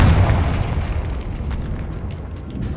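A Confringo blasting spell explodes in the Hogwarts Legacy video game, a heavy booming burst that rolls out into a long, low, rumbling decay, loud and close, with no talking.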